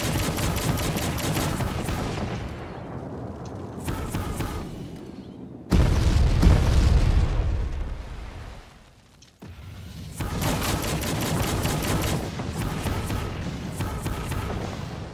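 Rapid gunfire and repeated booming explosions from the Bombs Away ability in the Firefall video game, loud and continuous, with one heavier blast midway and a brief lull before the shooting resumes.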